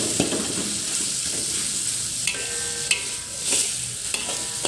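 Onions fry in a pan until soft. A continuous sizzle carries through with a few scraping stirs and clinks of a utensil against the pan.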